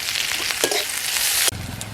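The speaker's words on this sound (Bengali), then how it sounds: "পেঁয়াজ কিন্তু একদম লাল করে ভেজে নিয়েছি" Onions fry in a pan, a close, bright sizzle with stirring scrapes, broken by a sudden cut near the middle before the crackle resumes with a low hum underneath.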